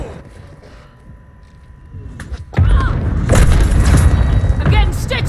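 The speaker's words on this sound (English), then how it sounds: "Hostile mortar strike in the area." A mortar strike in Call of Duty Modern Warfare 2, a shooter game, lands midway with a sudden heavy boom that rolls into a loud, sustained rumble of debris. A quieter stretch with a voice comes before it.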